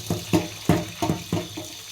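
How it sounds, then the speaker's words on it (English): Tap water rinsing food in a colander in a home kitchen, a running stream broken into about six rhythmic splashing pulses as the food is moved around, close and fairly quiet. "You'll feel the water starts to run clear and that jelly, viscous kind of liquid goes down the drain"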